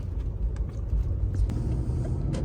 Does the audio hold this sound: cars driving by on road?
yes